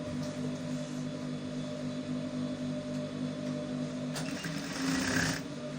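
A sewing machine runs steadily, stitching a round seam on jogger fabric with a constant whirring hum, then briefly shifts pitch near the end.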